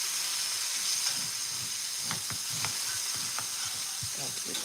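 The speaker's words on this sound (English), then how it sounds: "We got a sausage in there." A sausage sizzles in a frying pan with a steady, close hiss of frying fat, broken by a few soft clinks and stirring scrapes.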